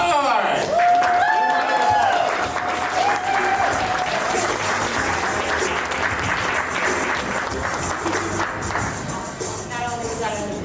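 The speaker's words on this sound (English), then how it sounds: "Let's give a round of applause to Aleksandra Stein" Audience applause for Aleksandra Stein at a pitch competition, sustained clapping from a crowd blended with loud stage music and tones throughout.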